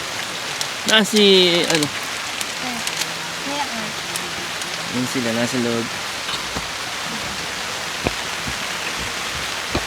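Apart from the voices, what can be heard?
rain falling on a camping tent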